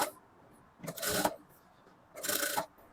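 Sewing machine stitching a halter-neck blouse, with two separate bursts of fast, close mechanical whirring, each about half a second long, set apart by quiet pauses.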